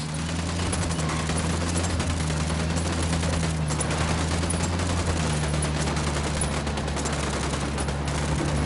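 Sustained bursts of automatic gunfire in the Ghost Recon Wildlands video game, a dense continuous fusillade with a low engine-like hum beneath, loud and steady with no talking.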